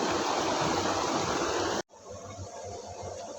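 A waterfall gushes in a loud, dense roar of falling water, then cuts abruptly after about two seconds to a quieter, steady rush of flowing water.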